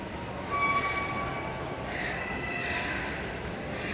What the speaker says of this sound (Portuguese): Eu tive que vir de trem para chegar até aqui.